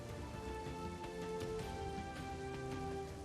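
Steady rain falls in parts of Kutch, Gujarat after a long dry spell, a continuous soft hiss with scattered drop patter throughout, heard alone and fairly faint.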